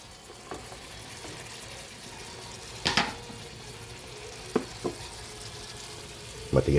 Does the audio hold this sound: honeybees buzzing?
no